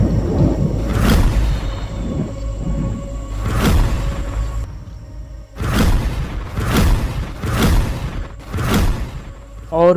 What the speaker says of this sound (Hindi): बादल गरजने लगते हैं,